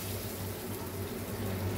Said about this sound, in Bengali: আর দেবো একটু জল